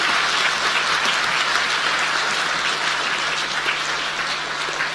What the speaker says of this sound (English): Can I get a big round of applause, please, for Nathan, Luce, Rod, and Ed?